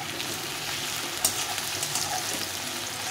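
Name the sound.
onions and whole garlic frying for mutton curry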